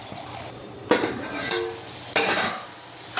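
A spoon scrapes and knocks against a pan while kilangu potato curry with mint is stirred, making a few distinct clanking strokes spaced about a second apart over a low, faint sizzle.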